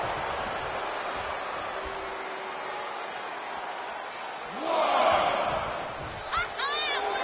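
Arena crowd in the WWE 2K24 wrestling game, a steady roar of many voices through the clip that swells into louder cheering around the middle, then drops back to a constant din with a few shouts.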